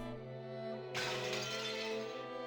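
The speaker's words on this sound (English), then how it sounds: "Shatter." Glass shattering as a sound effect in the visual novel Umineko When They Cry, a single sharp, bright crash of breaking glass that scatters and rings briefly over a steady musical tone.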